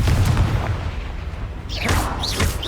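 The Confringo blast spell in Hogwarts Legacy goes off as a dense rumbling boom mixed with crackling, loud and sustained amid combat noise.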